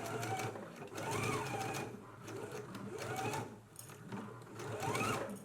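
A sewing machine bastes dress pieces in place, a continuous close whirring stitch with rhythmic rising and falling surges as the motor speeds up and slows.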